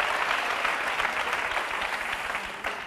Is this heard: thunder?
no